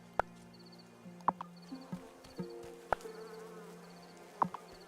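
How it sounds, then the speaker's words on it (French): Housefly buzzing in the video game Wylde Flowers, a faint hum behind scattered clicks and soft tonal game sounds, with no talk over it. "il y a un bruit de mouche dans le jeu"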